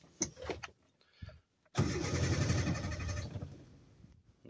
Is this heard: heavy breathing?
no